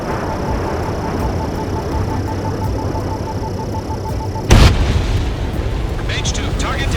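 An anti-air vehicle blowing up in the combat flight game Ace Combat 7, a sudden loud blast about two-thirds through over steady jet engine drone, followed by crackling debris bursts.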